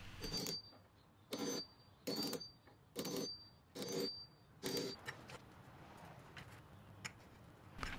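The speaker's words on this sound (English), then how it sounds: "I'll take a nail set and countersink the nail heads" A steel nail set is tapped with a hammer to countersink finish nail heads into wood on a little free library build: six sharp, evenly spaced strikes, close and crisp, then a fainter scattering of small taps.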